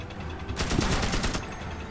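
A spell cast in the video game Magicka bursts out as a loud, dense crackling blast lasting about a second, set against a steady game soundscape.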